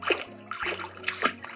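Footstep sound effect on water from a Unity game, several wet splashing steps in an uneven walking rhythm, close and fairly loud with short gaps between them.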